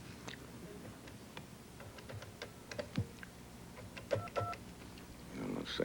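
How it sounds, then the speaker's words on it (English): A working telephone being dialed, starting with 1, gives a series of short, separate tones and clicks at an uneven pace, fairly close, over a low room hum. "This is a working phone, right? All right, I got to dial 1 first"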